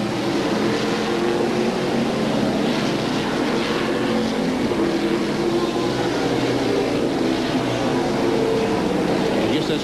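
NASCAR stock cars roar past at Watkins Glen road course, a dense continuous engine drone with broadband rumble, fairly loud and sustained with no clear breaks.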